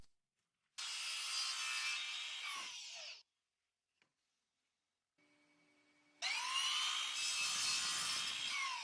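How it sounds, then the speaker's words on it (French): Medium-density fibreboard being cut with a power tool for a frame, two loud sustained bursts of several seconds each separated by a near-silent gap with a faint tick, no voices. "je découpe encore un peu de médium densité fibre pour faire un cadre"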